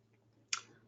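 A single sharp click from a computer mouse, close and fairly quiet, standing alone against a faint background hum.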